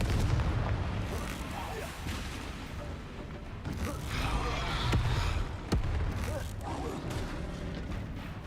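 Confringo fire spells cast in the Hogwarts Legacy video game land as sharp blasts, a few spaced bursts standing out above a steady, busy layer of game sound and voice.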